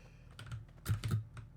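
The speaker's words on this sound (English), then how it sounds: "this is me hitting it with spacebar" A computer keyboard's spacebar is tapped several times in quick, uneven succession during a Valorant match, the clicky keystrokes close and fairly quiet, with a faint background hum and no talk.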